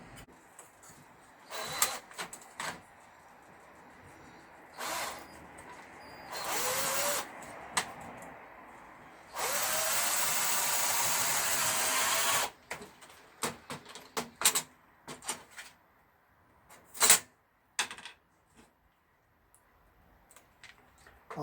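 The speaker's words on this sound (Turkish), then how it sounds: "altına iz yaptıktan sonra ikinci bir vidayla deliyorum" Power drill boring holes while building a homemade sluice box for gold prospecting, several short whirring bursts and one longer steady run, separated by clicks and handling knocks, nearby and moderately loud.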